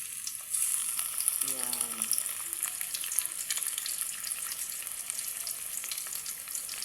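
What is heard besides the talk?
flour-coated milkfish (bangus) frying in oil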